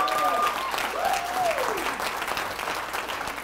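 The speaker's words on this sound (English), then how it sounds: "If we could give him a round of applause," A crowd applauds for Vince Ho at a business seminar talk. The clapping is loud, continuous and fills the whole stretch, with a brief whistle-like tone rising and falling over the noise near the start.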